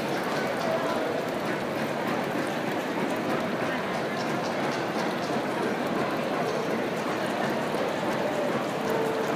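Nitrogen-rich water floods a flood-and-drain grow bed and drains through a small trickle valve, a steady close splashing and trickling wash that runs continuously without pause.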